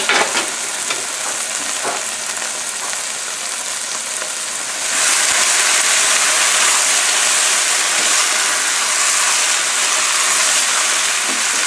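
Bean sprouts and snow peas stir-frying over the highest flame, a constant hissing sizzle with a few clatters early on, then a sharp jump to a louder, fuller roar of frying that holds steady to the end.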